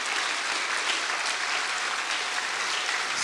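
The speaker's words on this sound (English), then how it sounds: "Come on, clap." A church congregation claps steadily through a bishop's consecration service in Uganda, a dense, continuous wash of many hands at even loudness with no voices on top.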